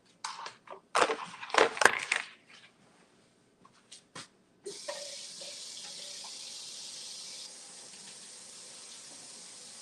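Tap water runs into a kitchen sink in a steady rush after a few clattering knocks and bumps as a kitchen tool is handled and rinsed.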